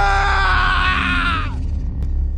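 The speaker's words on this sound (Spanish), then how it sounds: "escuché unos gritos." A man's loud, harsh scream rings out for about a second and a half, then breaks off, leaving low rumbling background noise and a brief click.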